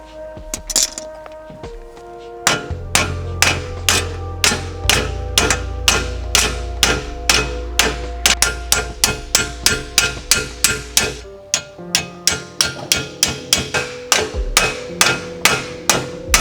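Rapid, steady hammer blows ring out on the metal of a BMW E36 car, dozens of sharp clanging strikes close by, with a brief pause partway through before the hammering resumes.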